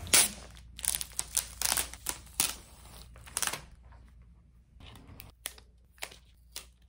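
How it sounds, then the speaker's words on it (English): Plastic packaging crinkles and rustles around a Wacom Intuos Pro drawing tablet as it is unwrapped, a string of close, sharp crackles and taps with short pauses between them. "let's unwrap it."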